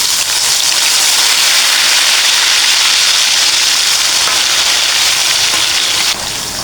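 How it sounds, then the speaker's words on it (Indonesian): Soybeans fry in hot oil, giving a loud, dense and continuous sizzling hiss that stays even from start to finish, close by and with no voices over it. "Kita goreng untuk kedelai, kacang kedelainya ya."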